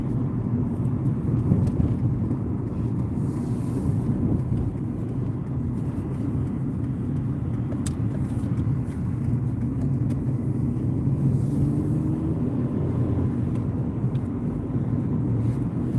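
A car drives over a shopping complex in the United Kingdom, its engine and road rumble steady and close inside the cabin for the whole stretch, with no talk.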